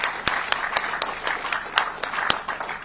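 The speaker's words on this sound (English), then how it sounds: "I think they deserve another round of applause." Scattered hand claps from a small group at a Texas border wall construction groundbreaking, a few sharp distinct claps over a soft, steady patter of applause.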